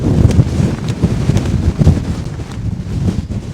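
Strong wind gusts roar across a winter mountain summit in the Scottish Highlands, a low buffeting rumble that swells and eases in uneven surges, close and loud.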